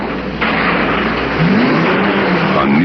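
A new 1968 Ford car engine starting on the assembly line at the River Rouge plant, a loud steady mechanical roar in a busy factory, rising slightly as it settles into a running rumble.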